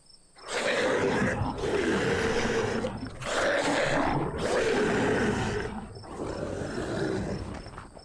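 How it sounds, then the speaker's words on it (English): Lions roar across the savannah at night in three long, deep, powerful bouts separated by short pauses, loud and close under a faint steady high whine. "fierce roars of lions were heard from the savannah"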